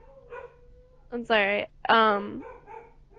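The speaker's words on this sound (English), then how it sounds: "Puppy. That's my dog." A pet dog gives a few short barks or yips early, fainter than the nearby speech that soon follows from a person talking over it.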